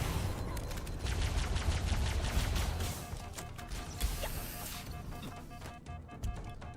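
Sentinel beam weapon firing in Halo Campaign Evolved, a sustained buzzing energy stream with rapid crackling pulses and combat crashes around it, loud and dense for several seconds before trailing off.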